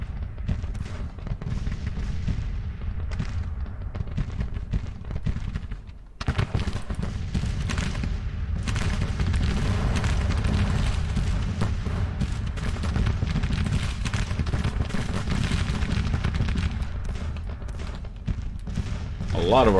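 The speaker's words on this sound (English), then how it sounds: "A lot of artillery." Continuous rumbling artillery bombardment in Grand Tactician: The Civil War, dense low booms rolling without pause for the whole stretch, with someone talking over it.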